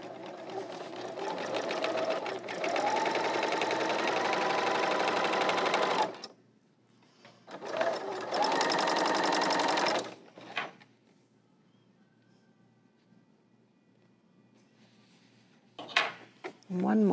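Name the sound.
L890 serger sewing machine stitching fabric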